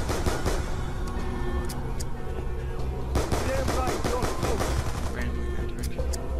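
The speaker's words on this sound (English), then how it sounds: "Start shooting zombies." Gunfire from shooting zombies in a video game: a dense, continuous stream of rapid game shots and impacts. Players talk over it throughout.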